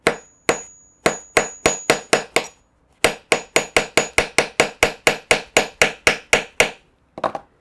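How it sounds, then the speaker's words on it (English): Sharp metallic hammer strikes setting a rivet cap on a handbag, in quick, steady succession, close and loud, about two dozen blows with a short pause midway and a final double tap. "I'm going to try to hammer the best I can"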